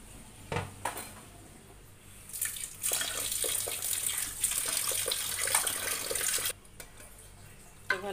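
Rice and lentils being washed in water for oil-free khichuri, with a steady broadband rush of splashing and pouring water building midway and continuing for several seconds, preceded by a few brief clinks and splashes.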